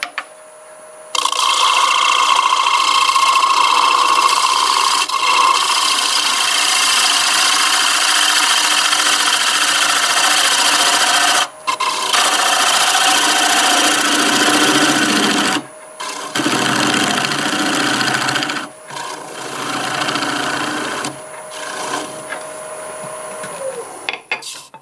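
Wood lathe spinning a black walnut piece while an angle-ground cutting tool shaves across it near the rim, a loud continuous rasping whir with a few brief pauses and shifts in intensity.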